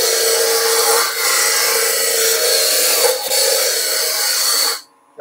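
Wood lathe turning a timber piece toward a cylinder, a steady close, loud scraping whir of tool on spinning wood lasting nearly five seconds, briefly dipping twice, then cutting off into near silence.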